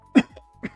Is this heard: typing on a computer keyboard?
no